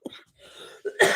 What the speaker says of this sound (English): It's just the cough.